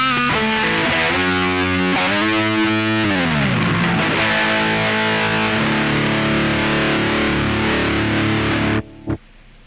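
Guitar through the distortion channel of a solid-state Orange amp, loud and saturated. Sustained chords shift and slide over several seconds before cutting off abruptly near the end, with a brief burst after the stop.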